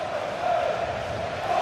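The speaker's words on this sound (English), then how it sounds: "Well, just listen to this crowd." Stadium crowd in a football video game roaring steadily, a broad sustained cheer with a couple of swelling peaks, loud and continuous with no talk over it.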